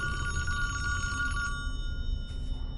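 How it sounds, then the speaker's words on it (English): A telephone ringing in the Friday the 13th Virtual Cabin game, a loud electronic bell trill that stops partway, then a brief second burst of ringing over a low hum. "That phone I know is getting annoying,"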